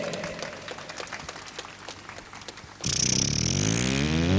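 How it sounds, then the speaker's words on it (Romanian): Audience applause at a televised entertainment show featuring a beatbox performance: dense clapping for nearly three seconds, then abruptly cut by a loud, rising tonal sweep that swells to the end. "Aplauze!"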